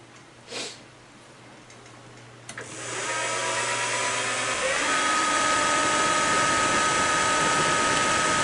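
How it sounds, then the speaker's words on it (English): A number 21 drill bit bores a pilot hole for a 10-32 tap in a small rod while making a tool setter. The motor spins up after a quiet start and then holds a loud, steady whine with a broad grinding hiss. "A 1032 tap needs a number 21 drill."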